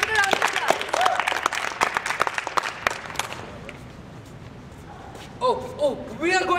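Clapping from a live comedy-show audience bursts out loudly for about three seconds, then fades into quiet room noise as people start talking near the end.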